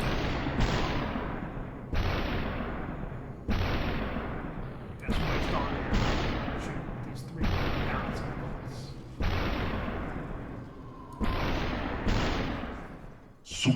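Gunfire in the video game SuperHot: seven heavy shots, evenly spaced about every two seconds, each with a long decaying tail, loud and close.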